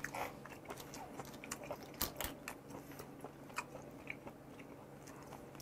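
Boiled limpet shellfish, flash-frozen before cooking, is chewed close to the mic with soft, wet, squishy bites and occasional crunchy clicks, quiet and intimate with no talking.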